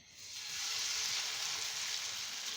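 Small, thin Chinese pakoras fried in hot oil in a pan give off a loud, even sizzle that swells quickly and then holds steady, with no one talking over it.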